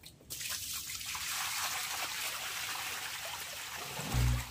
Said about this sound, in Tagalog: Banlawan ulit natin ang nakolektang balat ng pinya at pakwan.